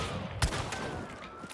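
Gunfire in a video game, a double headshot, with one sharp loud shot standing out over busy game sound and background noise.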